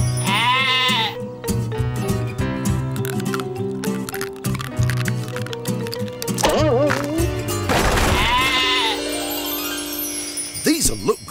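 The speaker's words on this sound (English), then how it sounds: "I know who that is. That's Rosie the goat." A cartoon goat gives a couple of wavering bleats amid lively background music and effects, with character voices talking around it.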